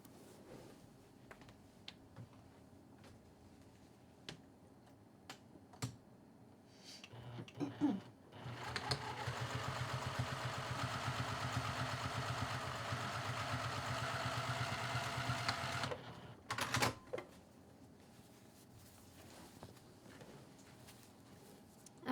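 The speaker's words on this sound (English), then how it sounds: "So I'm going to take this over to the machine and just sew this lower edge 1/8 of an inch away" A sewing machine stitches the lower edge of a fabric sleeve for a waist bag in one steady mechanical whir of about seven seconds, close by. Scattered clicks and handling noises of the fabric come before and after.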